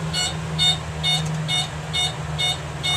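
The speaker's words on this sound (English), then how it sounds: "the flaps are past the approach speed and configuration with the gear not down, so the alarm's going off" Gear-up warning on a Piper Seminole, triggered with the flaps extended past 10 degrees and the landing gear still up: a steady series of repeated electronic beeps at a regular pulse over a constant low cabin engine drone.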